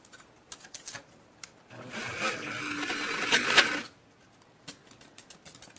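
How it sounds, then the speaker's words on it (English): A cheap electric spice grinder churning thick cacao into chocolate gives a strained motor whir of about two seconds between quieter scattered clicks and knocks. It is close and fairly faint, with no talk. "my poor, cheap spice grinder seems to be conking out, and it's not really refining it anymore because it's too thick"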